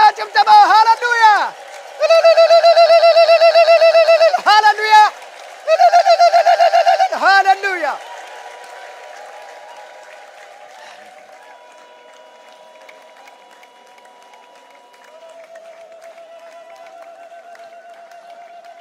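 An Ethiopian church congregation ululates in worship with loud, shrill, trilling bursts in several waves, then fades to a quieter murmur; a voice speaks over the start, and clapping is not clearly picked out.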